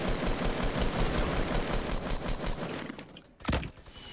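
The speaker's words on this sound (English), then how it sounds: "He has a minigun, so watch out." A minigun firing rapidly in a Fortnite Battle Royale match, a dense continuous burst of loud automatic fire that stops near the end, followed by a single heavy blast.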